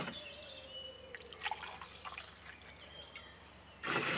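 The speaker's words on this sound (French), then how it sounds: "Deuxième bouteille. Je remplis une fois," Water is poured into a bottle to fill it, giving a quiet trickling with faint drips, brief clinks and a louder gush at the end.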